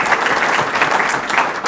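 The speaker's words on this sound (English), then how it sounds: "So if we could give them a round of applause," Loud, steady applause from a crowd, continuous clapping throughout.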